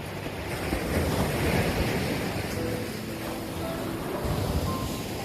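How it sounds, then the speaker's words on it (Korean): Ocean waves wash onto the shore at dawn off Sokcho, with a continuous roar, swelling slightly in the middle, mixed with gusty wind buffeting the microphone. "바닷가에 나오니까 파도 소리가 들리는군요"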